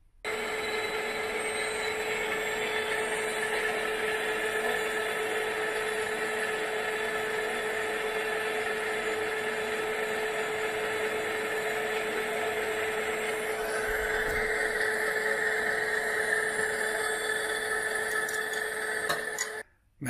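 A steady, loud machining drone from a metal lathe facing a faceplate for a Bernardo P600G milling machine, running continuously with a brighter cutting tone in the later part before stopping abruptly.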